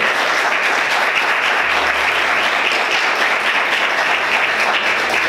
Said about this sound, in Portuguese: Queridos, vamos aplaudir o Senhor com bastante alegria.